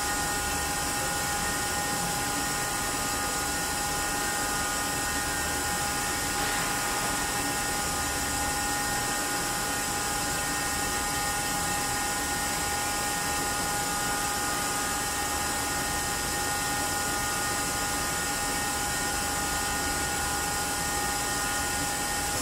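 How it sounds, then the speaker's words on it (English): Steady mechanical hum with a constant high whine and hiss, unchanging for the whole stretch, from a vacuum pump evacuating a vehicle's cooling system, no talking. "now we're pulling a vacuum in the cooling system, our vehicle"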